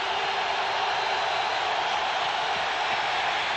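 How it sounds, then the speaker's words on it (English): Loud, steady roar of a packed stadium crowd at a 1994 NFL game between the Chargers and Chiefs, a dense continuous wall of noise with no voices standing out. "This crowd incredibly loud."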